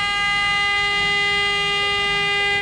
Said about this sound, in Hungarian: Ezután hosszas kürtszó kíséretében megindul Barcsik tartó egynapos útjára az 57 éves, még ma is mutatós küllemű vízibusz.